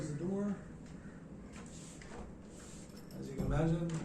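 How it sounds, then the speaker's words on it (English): A door closing in an indoor room during an office chair yoga session makes a short muffled knock, surrounded by a calm voice talking. "I close the door."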